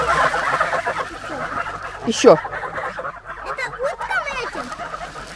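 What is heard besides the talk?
chickens and geese at feeding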